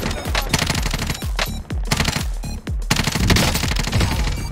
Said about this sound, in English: Is somebody shooting us in the back?